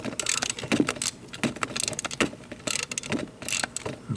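Flex socket on an extension working loose a 10 mm distributor hold-down bolt on a 2002 GMC Sonoma, giving close, irregular metallic clicks and ratcheting scrapes in short bursts.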